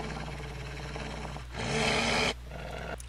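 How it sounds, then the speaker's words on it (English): A wolf avatar in Second Life gives a low, rough growl that swells loudly for about a second, then cuts off, set against a steady background hum. "And you can growl."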